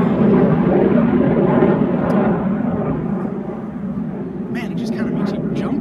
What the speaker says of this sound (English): Wow, I don't know what's going on with these planes.